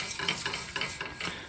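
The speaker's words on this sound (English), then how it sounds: "it may sizzle a little bit when we add the milk" Milk sizzles and bubbles as it is added to a roux in a hot pan while a utensil stirs with soft rhythmic scrapes, close and moderately quiet.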